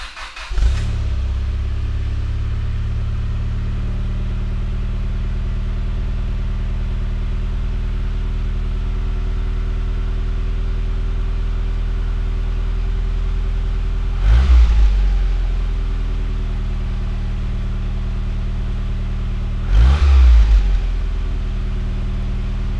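Exhaust note of a 1989 Chrysler Conquest TSi heard at the muffler: a steady, loud, deep idle with two brief revs that swell and fall back, no voices.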